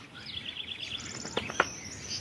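Small birds chirp and tweet in a quiet rural landscape as the weather turns and the vegetation greens, a few brief, faint calls rising over soft background noise.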